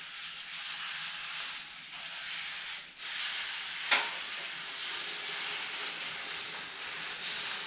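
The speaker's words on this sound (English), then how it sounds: "I want to get as much steam on here as possible." A steam iron on its highest setting hisses steadily over a wooden table top, a soft continuous close hiss with a brief dip and a short sharper sputter midway.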